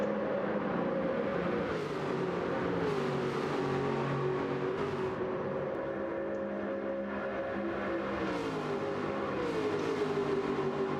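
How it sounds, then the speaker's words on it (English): Aston Martin race car engines in a sim racing video game roar steadily and loudly, their pitch rising and falling as they shift through gears, with no talking. "Just hear the roar of those engines through there."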